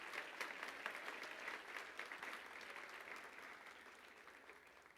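A church congregation at a worship service applauds in a continuous, fairly distant wash of clapping that gradually fades in strength over several seconds.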